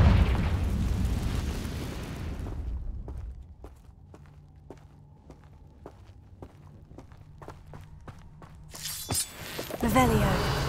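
A Confringo blasting curse detonates in the Hogwarts Legacy video game, a loud roaring explosion that dies away into quiet footsteps ticking evenly, before another sharp crashing burst returns near the end.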